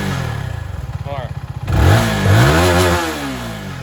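CF Moto 300SR motorcycle with an upgraded deep bass exhaust, first idling with a steady low putter, then revving up loudly in two rising, throaty pulls close by, with people talking over it.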